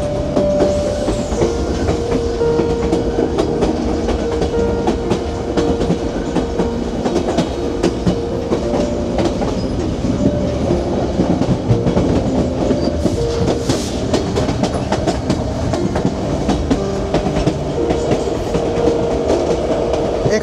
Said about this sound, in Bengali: আমার লাইফের করা বেস্ট ট্রেন রাইড, এ নিয়ে কোনো সংশয় নেই।